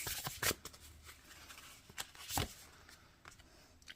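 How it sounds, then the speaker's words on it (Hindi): A single angel card is drawn from a card deck: soft papery slides and flicks, a few quick card riffles and rustles at irregular moments, quiet and close. "एक कार्ड निकालूंगी मैं"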